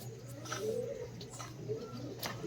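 Pigeons in a pigeon loft give soft, repeated cooing calls at a moderate distance, with a low steady hum underneath and a few faint chirps.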